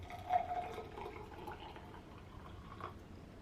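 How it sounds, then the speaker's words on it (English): Hot 170-degree water pours faintly onto Anji Bai Cha tea leaves in a small vessel, a soft, quiet splashing trickle that swells briefly at the start and then settles. "Okay, so I still have my warmer 170 water. I'll pour this in."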